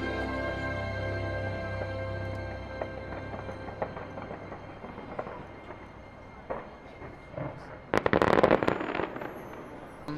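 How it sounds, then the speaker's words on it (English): Fireworks are launched far behind the Disneyland castle, heard as faint distant pops and thumps, then a denser crackling burst of reports near the end, over steady low outdoor rumble with no talking. "the fireworks get launched way behind the castle"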